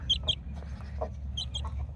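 A mother hen clucks to her chicks in a farm setting, giving short bursts of near, moderately loud clucks in two clusters separated by a pause, over a steady low background hum.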